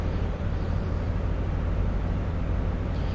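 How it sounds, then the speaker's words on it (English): The engine room of a train in Train Sim World 4 on a Great Western Express run gives a steady, dense mechanical roar with a strong low rumble, constant and even throughout with no speech. "That's the engine room."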